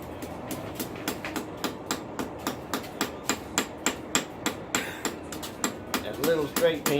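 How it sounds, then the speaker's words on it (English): A small straight peen hammer works hot metal on a metal rose, beating out a steady, close run of about two dozen crisp metallic strikes. A brief voice mixes in near the end. "That little straight peen gets in that corner nice."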